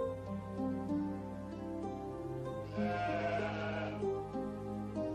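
A cartoon sheep bleats over a musical score, a wavering drawn-out cry rising out of the music in the middle of the passage, fairly loud and close.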